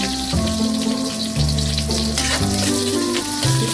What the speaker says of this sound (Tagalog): Isa natin ang bawang sa magiging dark ito. Sunod naman natin ang ating sibuyas.